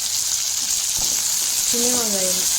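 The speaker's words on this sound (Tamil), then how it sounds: "நல்லா ஹை ஃப்ளேம் வச்சு நல்லா வதக்குனீங்க அப்படின்னா நல்லா வதங்கிடும்" Small onions and dried red chilies sauté on a high flame for thuvaiyal chutney, a steady close sizzle with a brief clack of stirring near the end.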